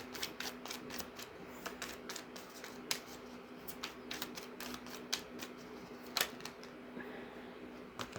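Tarot cards being shuffled at a reading, a quiet run of soft riffling flicks and sharper card snaps spread irregularly across the whole stretch, set against a low steady hum.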